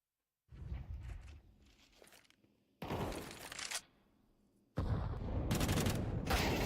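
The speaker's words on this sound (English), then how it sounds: "It's a meaty nade." A grenade explodes during a Counter-Strike match, with bursts of broadband blast and rumble in several loud surges, the last heavy and sustained, mixed with gunfire-like crackle.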